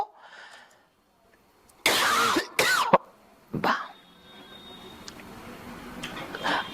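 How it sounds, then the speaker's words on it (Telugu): A few harsh coughs burst out close by, followed by a throat clearing, then quiet room noise with faint background sounds. "ఈ దగ్గు కూడా ఎడిటింగ్లో వేయకండి"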